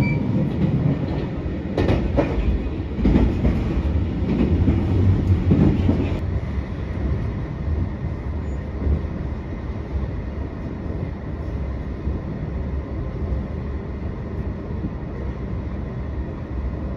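A JR Hokkaido local train runs along the Hakodate Main Line near Otaru beside Ishikari Bay, with a steady rumble and clicking wheels. Louder rattling bursts come early, then it settles into an even rolling drone.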